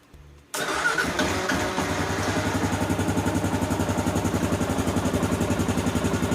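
A 2015 Kawasaki KLR 650 motorcycle engine catches after a brief quiet moment, then settles into a steady, loud, close-up rhythmic running chug with no talking over it.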